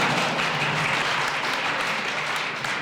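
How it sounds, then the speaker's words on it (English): Audience at a 1995 presidential conference on HIV and AIDS claps, a dense, continuous burst of applause from a large room, loud and unbroken for a few seconds. "First people I hear clapping are those behind me that I can't see"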